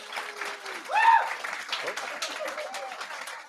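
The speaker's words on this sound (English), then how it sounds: "if you think Sam's app won, give a round of applause" Audience applause voting for an app at a tech talk on Angular components, a moderate, fairly soft crowd clapping with a brief cheer or whoop near the start and voices mixed in.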